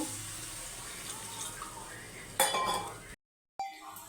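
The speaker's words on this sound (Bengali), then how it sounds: "কাশ্মীর লঙ্কার গুঁড়ো দেবো জল দেবো একটু" Water pours and splashes into a pan of egg curry masala with turmeric and Kashmiri chili powder, a close steady wash with a few faint metallic clinks, briefly cutting out before one more short splash.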